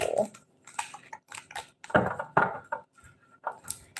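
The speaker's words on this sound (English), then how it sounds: "Please, spirits, I want one card per shuffle." Tarot cards being shuffled during a reading, giving a series of close, quiet papery riffles and flicks in uneven bursts with no talking.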